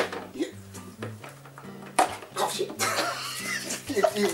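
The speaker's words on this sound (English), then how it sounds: "we have to wash our hands. So this is hand soap." Hands are scrubbed with hand soap in a kitchen, wet squelching and splashing under running water, close and irregular, with someone talking and music playing underneath.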